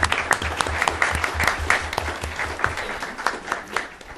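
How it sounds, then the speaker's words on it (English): An audience at a policy forum on Middle East cooperation gives a round of applause, with crisp, distinct claps that are fairly near and uneven in rhythm, fading a little toward the end. "he really deserves a round of applause for his instrumental role in all this"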